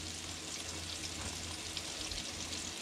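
Crappie fillets fry steadily in a pan, a dense, continuous hiss and crackle of hot oil heard close up with no voices.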